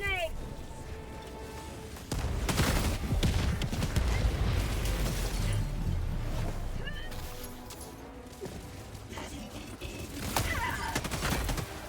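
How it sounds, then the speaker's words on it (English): Video game combat with a grenade blast and bursts of gunfire, heard as heavy booms and rattling shots that build into a sustained loud barrage, with a voice talking over it. "Throwing grenade!"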